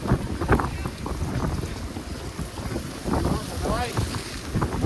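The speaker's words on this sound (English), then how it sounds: "Boy, wind's picking up." Gusty wind rushes and buffets the microphone during a snowstorm while walking west along Richmond Street in downtown Toronto, a steady roaring rumble with rising and falling surges throughout.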